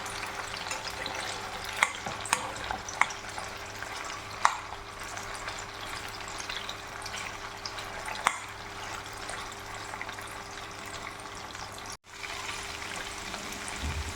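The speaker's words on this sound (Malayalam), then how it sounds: "ഇത് അടിയിൽ പിടിക്കാതെ നമുക്കൊന്ന് എന്തെങ്കിലും തവി കൊണ്ടൊന്ന് സ്പൂണും കൊണ്ടൊന്ന് നമുക്ക് ഇളക്കി" Chicken pickle frying in a pan, a steady close sizzle with a few light scrapes and taps of a spoon as it is stirred, no voices.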